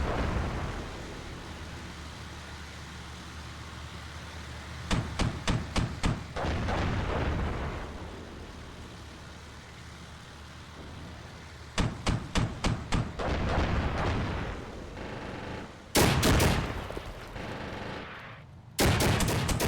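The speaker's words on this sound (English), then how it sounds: "airstrike hitting us right when we're most vulnerable" Armored Brigade 2 combat erupts in airstrike explosions and gunfire: long rumbling blasts, then rapid bursts of shots in clusters around the middle of the stretch, with sharp loud cracks near the end and no talk.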